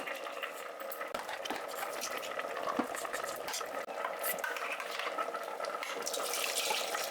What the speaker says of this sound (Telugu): ఇలా నీళ్ళు పోసుకోవాలి.